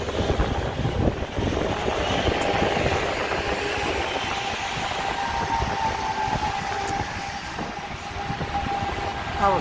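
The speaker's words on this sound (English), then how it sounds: "That was a very noisy bus." A noisy city bus rumbles past at a downtown Chicago street corner in Streeterville, a loud, continuous engine roar and road noise with a rising whine, mixed with general street ambience.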